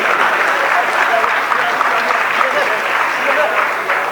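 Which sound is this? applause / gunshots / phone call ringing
applause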